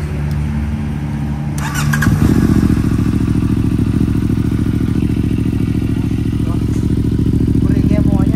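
A CF Moto 450MT motorcycle fitted with a new exhaust pipe starts after a brief clatter, then idles steadily with a loud, close, even rumble.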